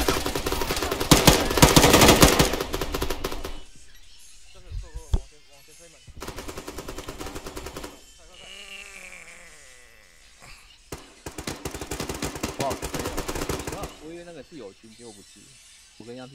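Soldiers moving and firing in the military shooter ArmA, with loud bursts of automatic gunfire at the start and again in the middle, broken by quieter gaps where players talk over voice chat.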